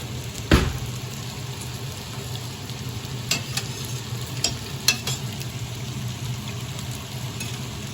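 Pot of roast beef simmering on a stove, a steady low bubbling hiss with a brief clank near the start and a few light taps of a lid or utensil.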